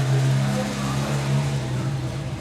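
A car passes close by on a street: a fairly loud, steady rush of tyre and engine noise over a low hum that eases slightly toward the end, with no voices.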